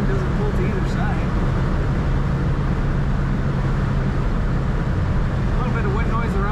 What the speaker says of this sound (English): A little bit of wind noise around that convertible top, that's normal